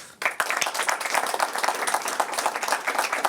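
Studio audience of a sports talk show breaking into steady applause, a dense wash of many hands clapping that starts abruptly and carries on evenly.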